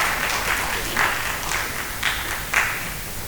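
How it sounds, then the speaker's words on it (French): An audience at an awareness event on mining in Guinea claps in a short, moderate burst, with a few sharper swells rising out of a steady patter. "Sous vos applaudissements, s'il vous plaît."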